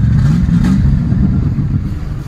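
An old Ford engine idling with a steady low rumble, one sharp pop breaking through early on, the motor running rough and loud throughout.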